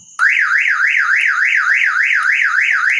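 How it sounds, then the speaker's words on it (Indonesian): A Mitsubishi Eterna 1991 SOHC 2.0 car alarm starts abruptly and wails in a fast, rising-and-falling siren pattern, loud and close, repeating steadily without pause. "maka alarm akan berbunyi"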